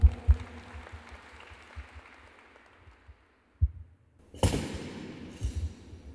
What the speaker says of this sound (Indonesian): Sekali lagi boleh ya, tepuk tangan yang meriah buat rektor kita.